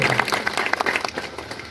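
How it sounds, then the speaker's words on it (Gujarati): A crowd at an election rally applauds with dense, steady clapping that swells and fades over a couple of seconds, fairly close and loud. "આપણે સૌ તાળીઓથી વધાવીએ એ વિનંતી"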